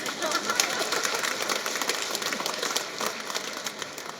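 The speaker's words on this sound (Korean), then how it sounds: "박수 치세요." Congregation applause during a homily at a Catholic Mass for the Feast of the Holy Family, with dense, brisk clapping running the whole length at a fairly close, even level.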